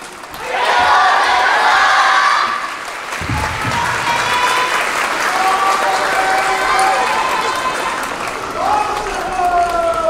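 Applause from an audience at a YOSAKOI dance performance in a cultural hall, a sustained burst of clapping that continues steadily, with a voice over a speaker addressing the crowd.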